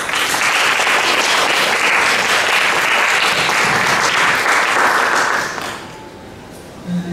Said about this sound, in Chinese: 那我们先用最热烈的掌声